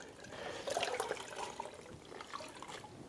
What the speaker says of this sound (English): Now I can get my mitt, and again I'm going to wring that out.